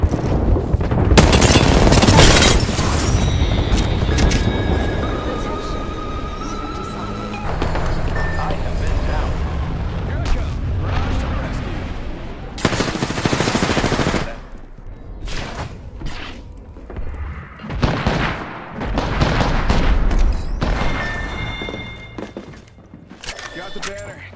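Airstrike explosions in the Apex Legends video game, a chaotic run of loud booms and gunfire-like bursts rising and falling across the clip, mixed with other game effects and a voice speaking over them.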